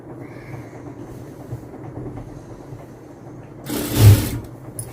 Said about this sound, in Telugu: ఇది కూడా డబుల్ స్టిచ్ వేసేసుకోండి.